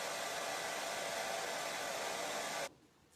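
A hair dryer blows steadily on the painted nose of a craft owl door hanger, a loud, even whoosh of air that runs for about two and a half seconds, then cuts off abruptly into quiet.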